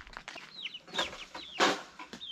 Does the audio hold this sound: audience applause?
no